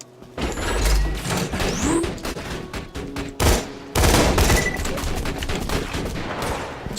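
Rapid bursts of turret gunfire in Borderlands 2, dense and loud, with clanking mechanical sounds and a sharp break before the shooting resumes.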